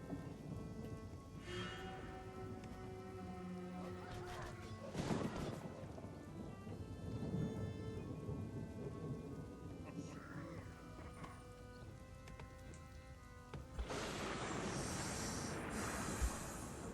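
Steady rain hisses through a thunderstorm in the video game Northgard, with low rumbles of thunder rolling underneath and a louder burst of downpour near the end, while a voice talks over it.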